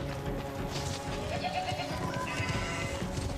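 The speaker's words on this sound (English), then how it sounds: "I can't wait to chase the goats into the pen in my horde shooter" Goats in the Warframe game's Duviri Paradox bleat in a dense cluster over a continuous ambient game soundscape, several overlapping calls at fairly steady loudness.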